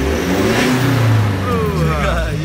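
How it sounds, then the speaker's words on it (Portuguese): A car engine revs up, its tone rising and whining as a large turbo spools, loud and close, with a voice faintly underneath. "Olha o turbuzão acionando, tá ouvindo?"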